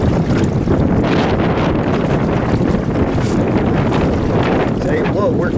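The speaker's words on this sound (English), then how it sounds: "Big gusty wind." Strong gusty wind buffets the microphone aboard a sailing boat, a loud continuous roar with surging gusts and splashing water, and a voice briefly under the noise.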